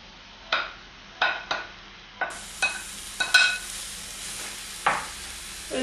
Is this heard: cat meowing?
no